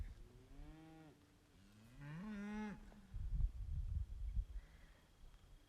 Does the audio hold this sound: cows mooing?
yes